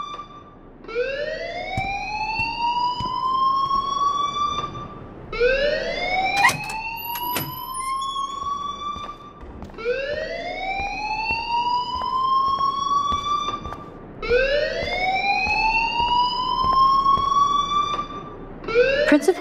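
A school fire alarm in the Life is Strange video game wails in repeated rising electronic sweeps, about four cycles each a few seconds long, loud and steady with brief gaps between, without any talking.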